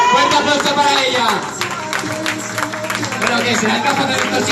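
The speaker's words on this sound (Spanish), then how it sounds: "Fuerte aplauso para ella." Crowd applause and cheering at a bike trial exhibition, a dense burst of clapping mixed with crowd noise and voices throughout, fairly loud and close.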